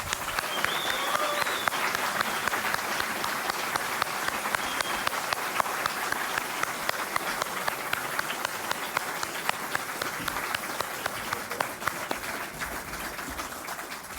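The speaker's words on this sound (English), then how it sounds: "So please give him a huge round of applause." Sustained applause from a conference audience greeting a speaker at a national political conference, dense and steady throughout with no break.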